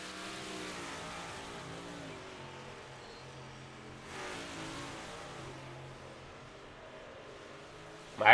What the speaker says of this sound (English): Dan McLaren coming out on track now